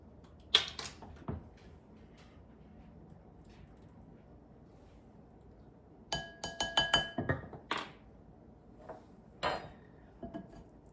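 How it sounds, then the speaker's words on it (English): Pitted plums get tossed with flour in a bowl, making scattered light clinks and knocks against the bowl, sparse at first and then a denser run of clatter, fairly close with no talking. "And then I'm going to toss with 1 tablespoon flour."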